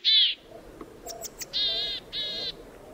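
Willow tit calls: a thin high note, then several sharp short chips, then two drawn-out buzzy nasal calls, fairly close, over a low steady background rumble.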